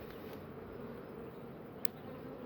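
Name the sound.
bee buzzing near beehive nucleus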